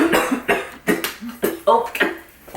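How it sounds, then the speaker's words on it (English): A person coughs in a rapid series of harsh, close bursts, about five or six in quick succession, with breathy vocal sounds between them. "Why am I coughing up a storm?"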